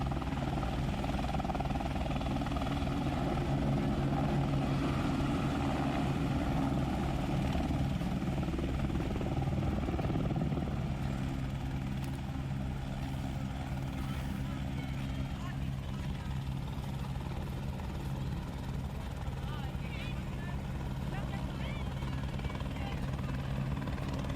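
A steady, heavy rumble of helicopter rotors and engines fills the air continuously on the Kedarnath pilgrimage route, loud and close, with no pauses.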